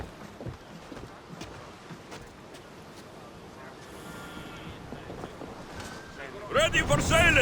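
A sailing ship setting off in the video game Assassin's Creed Odyssey: steady wind and water ambience with faint voices beneath, building to a loud, bright rush of wind and waves in the final second.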